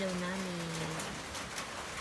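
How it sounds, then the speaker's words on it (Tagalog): Steady rain in the Philippine countryside patters and hisses across the whole moment, with a faint tonal hum fading out early on. "tunog po ng ulan?"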